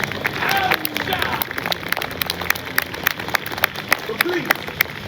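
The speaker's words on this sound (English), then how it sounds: "give a round of applause for the Yorkists, for Harold, for Mel," Outdoor crowd at a Warwick Castle show clapping and cheering for the performers, a steady wash of applause with sharp individual claps rising above the general noise.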